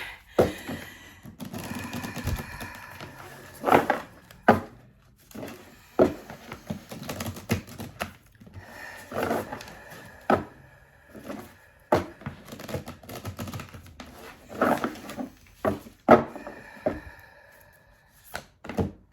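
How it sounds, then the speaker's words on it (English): Irregular bursts of riffling and soft slaps, like cards being shuffled and tapped together, close and fairly quiet, repeating in uneven clusters. "they want me to shuffle this pretty good"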